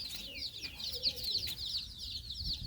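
About seventy native Sonali chicks cheeping continuously on a farm in a busy, high-pitched chorus, close by, with no talking.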